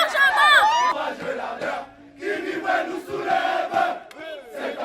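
A crowd celebrating in the streets of Libreville, Gabon, after a coup: loud massed shouting and ululating cries that surge, dip briefly, then swell again.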